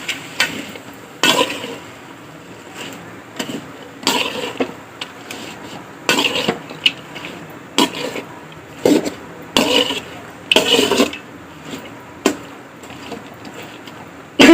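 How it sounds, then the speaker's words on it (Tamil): Cabbage sautéing in a pan with tomato, a spoon or spatula scraping and clattering against the metal in irregular bursts, close and fairly loud, with faint sizzle underneath. "நல்லா வதக்கி விட்டுடலாம் கிளறிடலாம்"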